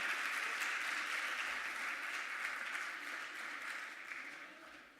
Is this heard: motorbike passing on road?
no